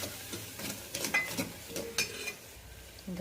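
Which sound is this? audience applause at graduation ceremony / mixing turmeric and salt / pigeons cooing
mixing turmeric and salt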